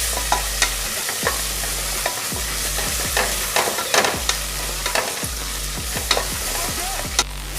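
Tomatoes for chicken biryani are sautéed in a pressure cooker pan, a constant sizzle broken by regular, sharp scrapes and taps of a spoon stirring, loud and close with no voices.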